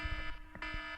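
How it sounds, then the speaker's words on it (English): An alarm sounds in the background during a nuclear power plant restart, a faint buzzing tone that pulses in short repeated bursts. "is that a siren, some sort of alarm I hear in the background?"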